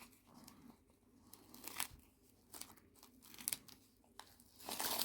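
Plastic backing is peeled off a menstrual pad, making close, soft crinkling and tearing rustles in short irregular bursts.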